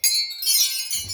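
A metal chime hanging from a hoop on an A-frame gets bumped and rings out with a bright, sustained shimmer, close and fairly loud, with a soft low thud near the end.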